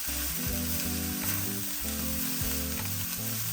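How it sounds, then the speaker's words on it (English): Scallions and cauliflower fried rice sizzling in oil in a pan, a dense, continuous close frying hiss as it is tossed, with a low tonal hum running underneath and no talking. "Give this another toss so the oil and the onions come together."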